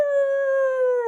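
A single long, steady howl of a dog holds one clear, even pitch for about a second, loud and close with nothing else around it.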